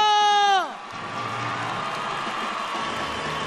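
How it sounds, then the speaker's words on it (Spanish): A crowd at the Santa Cruz de Tenerife carnival comparsa results ceremony applauding the ten participating troupes, a sustained, fairly loud roar of clapping and cheering that follows a brief tone which fades out at the start. "Fuerte el aplauso. Para las 10 comparsas participantes."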